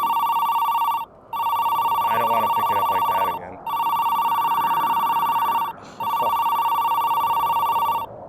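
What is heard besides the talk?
telephone ringing in a video game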